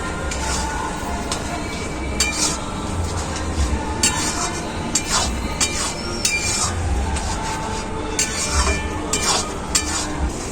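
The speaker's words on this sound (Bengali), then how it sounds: "চিনিটা দেওয়ার পরেই আমি একটু নাড়াচাড়া করে নিয়েছি" Kochu shak (taro leaf) curry with fish head being stirred in a pan after sugar is added, with irregular scraping and clattering strokes over a low simmering sizzle, close and without talk.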